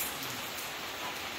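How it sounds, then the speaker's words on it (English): Pouring rain at a beach house build site in the Philippines, a dense continuous hiss of heavy downpour with no talking. "As you see, it's raining again, pouring down rain."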